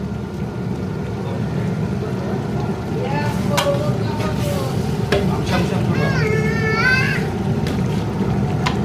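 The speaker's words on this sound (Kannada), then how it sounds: "ಚೆನ್ನಾಗಿ ಮಸಾಲೆ ಎಲ್ಲ ಫ್ರೈ ಆಗಬೇಕು" Masala for white chicken pulao with coriander, mint and curd frying in a pan, a steady close sizzle with stirring scrapes, under occasional talk.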